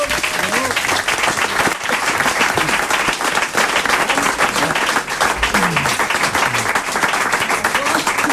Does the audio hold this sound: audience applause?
yes